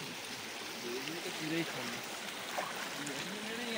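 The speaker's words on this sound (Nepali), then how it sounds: "खोला" A village stream in Nepal flows with a constant, even rushing of water close by, while voices murmur faintly underneath.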